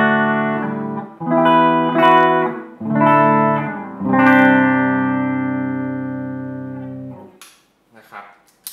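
A clean electric guitar is played through an effects switcher set to bypass and straight into the amplifier, giving a few plucked notes followed by a long, ringing sustained chord that fades out.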